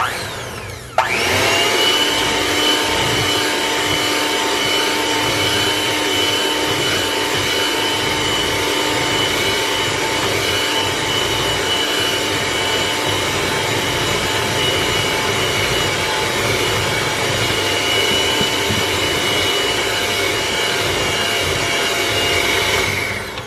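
An electric mixer beating vanilla cake batter starts abruptly and then runs as a loud, steady motor whine with a constant pitch, close by and unbroken for over twenty seconds before it trails off.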